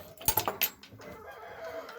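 Chickens in an outdoor cage give a quick burst of three or four close, sharp clucks, then settle into soft, low murmuring.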